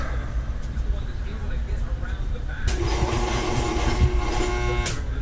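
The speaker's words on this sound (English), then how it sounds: "we got the air compressor up and going" Beside a 1995 Ford F150 under bodywork, an air compressor kicks on partway through and runs with a steady loud mechanical drone, after a stretch of quieter background noise.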